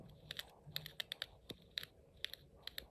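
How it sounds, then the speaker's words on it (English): A small Snap Circuits hobby motor turned slowly by hand gives a run of sharp, dry clicks in an uneven rhythm, about a dozen close, quiet ticks like old typewriter keys. "You hear a sound that might resemble that of an old-style typewriter when you push the keys"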